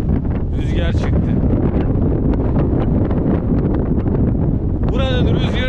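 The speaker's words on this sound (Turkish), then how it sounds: "Rüzgar çıkmadan önce iyiydi de rüzgar çıktı." Strong, steady wind roars across the microphone on Argentina's Ruta 40 highway, loud and unbroken throughout, with brief voices rising over the buffeting at the start and end.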